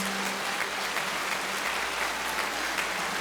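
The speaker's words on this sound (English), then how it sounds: "Let's have a round of applause for everyone that's here tonight." Audience applause fills a gala hall, a steady dense wash of clapping at moderate level with no talk over it.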